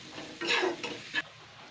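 Kashmiri chili powder fries in a pan, and a spatula stirs it in two or three short, soft scraping strokes over a low sizzle.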